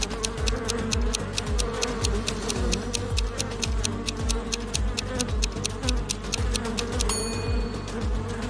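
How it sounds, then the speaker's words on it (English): A swarm of angry bees buzzes loudly and steadily near a lakeshore, a dense continuous drone with pulsing rises and falls that never lets up. "But bees seem to be angry."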